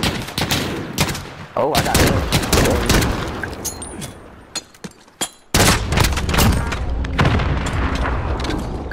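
Gunfire in a 2v2 video game shooter match: dense bursts of loud, sharp shots and booming reports come in clusters, with a short lull midway before firing resumes, while players talk over it.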